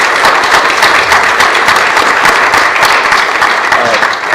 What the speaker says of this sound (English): I think we owe him one more round of applause for coming.